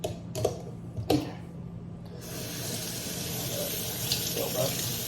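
Water running from a tap into a container, a steady rushing hiss that starts after a couple of brief clinks and continues evenly to the end.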